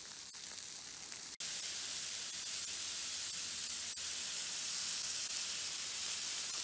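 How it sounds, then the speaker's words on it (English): Pork chops with no coating or breading fry on an improvised outdoor griddle, giving off a steady, close hiss that carries on unbroken except for one brief gap near the start. "This is just the pork chop itself on the griddle."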